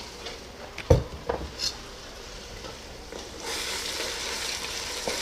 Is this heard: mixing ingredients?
yes